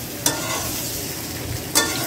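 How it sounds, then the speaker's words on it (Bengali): Boiled potatoes for biryani frying in a pan, a steady close sizzle broken by two sharp stirring scrapes near the start and end. "এটা একটু ভেজে নিচ্ছি"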